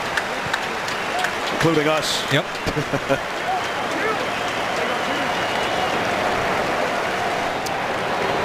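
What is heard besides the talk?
stadium crowd clapping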